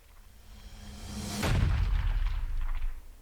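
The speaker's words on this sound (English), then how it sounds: "Got like a bass drop, another bass drop, a gunshot, and then like a bunch of reverse stuff." A production effects stack for a metal breakdown: a rising reversed swell snaps into a deep, booming bass drop with a sharp gunshot-like hit, followed by a sustained low rumble and faint swirling reversed textures that fade out.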